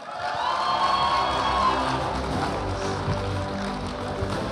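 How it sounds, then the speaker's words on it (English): A crowd at a high school fall sports awards night cheers loudly for coaches as their names are called, a sustained roar of shouting and whooping that rises quickly and then tapers slightly. "Cheer as loud as you can, okay?"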